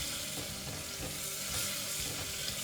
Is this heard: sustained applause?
no